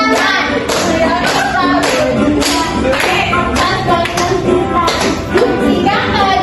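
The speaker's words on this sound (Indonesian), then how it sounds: "Hentikan ayo tepuk tangan, tepuk tangan," A class of young second-grade children clapping their hands together in a classroom, a dense, continuous patter of many claps with roughly rhythmic accents throughout, loud and close, with voices faintly mixed in.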